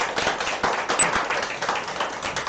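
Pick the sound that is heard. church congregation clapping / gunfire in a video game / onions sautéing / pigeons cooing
church congregation clapping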